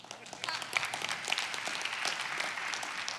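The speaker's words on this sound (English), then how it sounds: "Interesting that deserves applause" Light applause from a congregation during a sermon, a scattered, fairly soft patter of clapping with a few voices mixed in.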